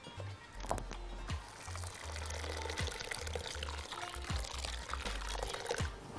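Water or broth is poured into a pot of lentils, a continuous liquid splash with small clinks from the utensils, close to the microphone and without talking.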